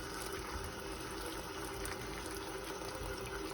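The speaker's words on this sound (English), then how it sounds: "Let's rinse that one out and see how it did." A muffin pan rinsed under a running tap, a steady close rush of flowing water with an even level throughout, no voices.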